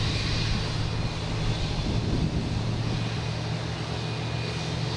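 A loud airplane at Boston Logan Airport gives a heavy, continuous engine roar with a deep rumble, swelling slightly midway and then holding steady.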